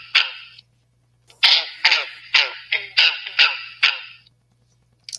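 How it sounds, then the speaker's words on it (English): A green frog calling near a pond gives a quick run of about seven sharp, twangy croaks in an uneven rhythm, fairly close and clear against a quiet background, with a short lone call just before the series. "So that is your green frog."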